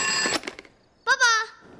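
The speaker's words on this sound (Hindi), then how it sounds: "अरे पापा का फोन" A telephone rings in a family home, two bursts of a bright electronic trill after someone speaks briefly, the ring fairly close and clear.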